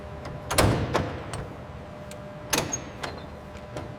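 Truck trailer doors at a loading dock bang shut in a few sharp metallic slams and clanks, spaced over several seconds against a steady low industrial hum.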